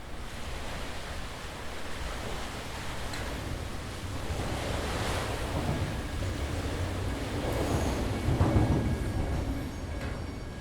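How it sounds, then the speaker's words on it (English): Water washes steadily at a ferry dock boat launch in Steilacoom, Washington, a continuous broadband rush of small waves mixed with wind, swelling slightly louder toward the end. "recording the sound of the water and the passing trains"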